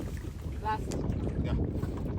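A motorboat runs across the open sea off Sri Lanka, its steady engine and wind rumble filling the air, with a brief voice heard near the start.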